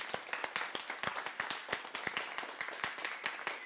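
A church congregation claps together for a baptism, a dense, steady patter of many hands at moderate distance with no distinct cheering or talk.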